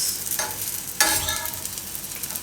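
Chili fritters (marcha bhajiya) cooking on a tawa griddle pan with a little oil, giving a steady close sizzle with a couple of sharper crackling bursts.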